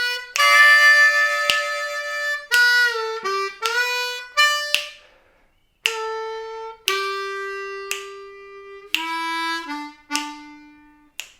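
Bluesy lick on a C harmonica playing Amazing Grace, a run of sustained reedy notes with sharp attacks and short gaps, sliding bends between phrases, played clearly and alone at close range.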